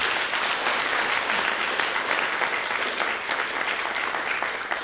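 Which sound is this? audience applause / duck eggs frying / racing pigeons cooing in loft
audience applause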